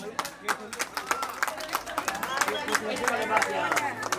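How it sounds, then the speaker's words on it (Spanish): Audience clapping rings out at an outdoor pot race in El Arenal, Yahualica, in the Huasteca, a busy run of claps mixed with crowd babble and voices over the whole stretch. "¡Fuerte los aplausos para ellas!"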